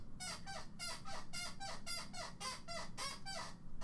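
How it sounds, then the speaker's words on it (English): A chair squeaks over and over in a steady rocking rhythm, each creak a short, shrill burst repeating roughly three times a second, close and fairly quiet. "you can hear my chair squeak, too"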